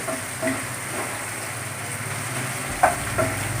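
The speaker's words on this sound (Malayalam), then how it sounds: "ഇനി ഇത് തുറന്ന് വെച്ചിട്ട് നമുക്കൊന്ന് നന്നായി ഒന്നുകൂടി പാട്ടിയെടുക്കാം" Tomatoes, green chillies, onion and garlic sautéing in an open pan give a steady, low sizzle with a few soft scrapes and stirs breaking through, and no voices.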